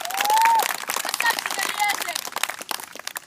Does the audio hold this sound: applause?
yes